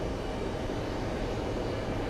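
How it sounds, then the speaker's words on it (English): A Swiss airliner at the airport: a steady, loud, broadband engine roar that stays constant throughout, with no speech over it. "There's our Swiss plane."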